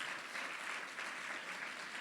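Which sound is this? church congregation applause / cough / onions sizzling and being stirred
church congregation applause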